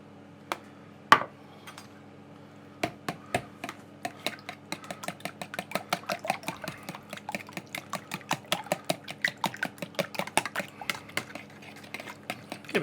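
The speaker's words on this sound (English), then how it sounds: "Give it a good mix in" Double cream being whisked into a cheese and onion quiche filling in a bowl, heard as a rapid run of close, sharp clicking taps from utensil against the bowl that grows busier and steadier as the mixing goes on.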